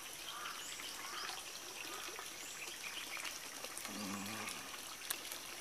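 Water trickling from a modified spring, the second water source from Haginit Falls, at the shoulder of Mount Puting Bato on a Samal Island mountain trail; a steady soft outdoor wash with faint bird chirps over it.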